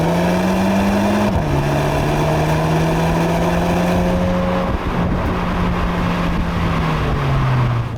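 A Volkswagen Golf 8 GTI driving in sport mode, its engine droning loudly and steadily from inside the cabin, pitch holding then shifting as it changes gear, with no talking over it.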